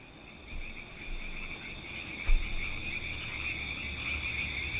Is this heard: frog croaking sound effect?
yes